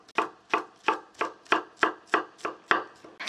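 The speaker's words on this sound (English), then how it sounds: "For the garlic, you can use as much as you like, and now I will finely chop it." A knife chopping garlic finely on a cutting board, with about ten sharp, evenly spaced thuds in a steady rhythm, close and clear with no talking.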